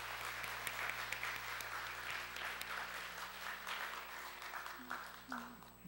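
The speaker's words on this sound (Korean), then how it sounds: "박수하시겠습니다." A church congregation applauds a new member standing during a worship service, broad dense clapping held steady throughout, with a few voices murmuring underneath and a low hum running beneath.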